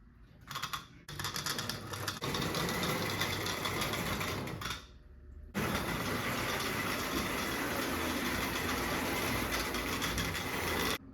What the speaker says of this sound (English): Plugged in the transformer, let's see if it runs.